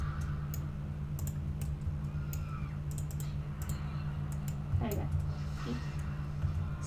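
Computer keyboard typing and mouse clicking during a World of Warcraft session, a steady patter of light taps and clicks over a constant low hum from game audio, close and moderately loud throughout.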